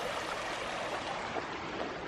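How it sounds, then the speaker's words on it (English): Fast-flowing hot spring stream at an abandoned resort turned wildlife refuge, a steady close rushing and burbling of crystal clear water heard alone. "the spring runs real fast"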